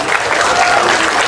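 Loud, dense applause from a crowd at a political rally, greeting a speaker and filling the whole short moment with continuous clapping and crowd noise.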